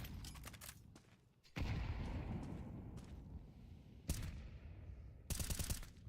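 Desert Eagle pistol and other gunfire in a Counter-Strike match at the IEM Cologne Major, with loud shots and blasts breaking up a steady rumble of game noise, and no talk over them.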